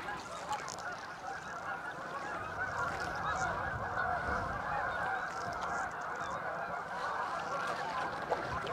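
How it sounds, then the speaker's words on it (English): Swans calling as a flock takes off and flies up over an open spring bog, a dense, continuous chorus of honking calls at a steady moderate distance with no talk. "I can hear the swans. There they go."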